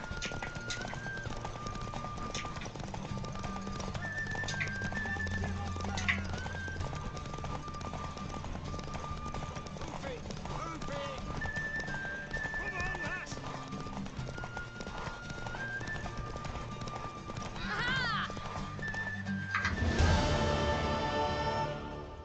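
Horse hooves clip-clopping at a steady galloping rhythm during a horse race in The Witcher 3, close and continuous under game music, with a brief whinny near the end.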